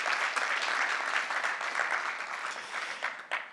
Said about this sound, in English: I would actually like to just start with a round of applause for the organisers